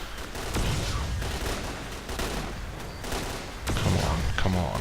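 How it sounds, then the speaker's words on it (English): Gunfire in the shooter game S.T.A.L.K.E.R.: Clear Sky: repeated shots and bursts crackle through a dense firefight, with a heavier volley near the end, under low, excited talk from a player. "Quick save and complete focus on shooting him."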